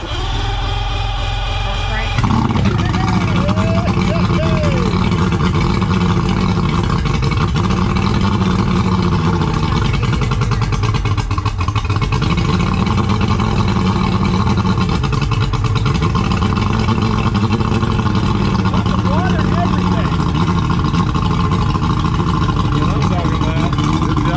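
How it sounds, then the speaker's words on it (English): The outboard motor on a boat abandoned for 18 years starts with a sudden burst and then keeps running loud and close, its pitch wavering slightly, while people talk over it. "That motor runs good."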